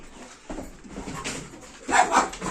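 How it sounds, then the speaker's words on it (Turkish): A big, frightened dog whimpers and whines in short, uneven bursts, close by, with a louder pair of yelps near the end. "Ufacık şey koca köpeği korkutuyor ya."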